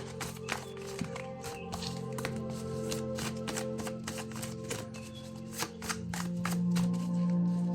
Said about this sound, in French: je vais te prendre mes petites cartes